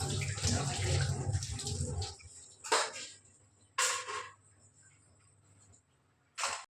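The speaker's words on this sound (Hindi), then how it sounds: "ये पूजा के जितने भी बर्तन होते हैं मंदिर के, ये मैं रसोई में ही धोती हूँ" Running water splashes over temple puja utensils being washed on a kitchen shelf, a close gushing burst at first, then several short separate spurts of water with quiet gaps between.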